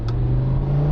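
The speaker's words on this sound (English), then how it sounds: "my car, has a optional Lamborghini exhaust system, racing exhaust system on it" A Lamborghini Huracan fitted with an optional Lamborghini racing exhaust gives off a steady, close engine drone, humming evenly without a clear rise or fall.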